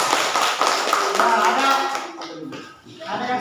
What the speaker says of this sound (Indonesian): Ya, tepuk tangan kelompok 1.